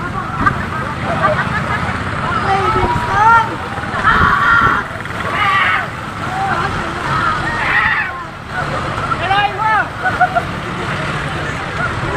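Rising floodwater sloshes and splashes through a street as the water climbs toward houses, a loud churning wash heard under worried voices speaking throughout.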